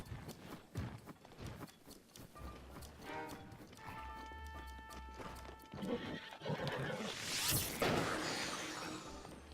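Horse in Breath of the Wild whinnying loudly alongside galloping clip-clop hooves and game sound effects, the neigh rising clearly near the end.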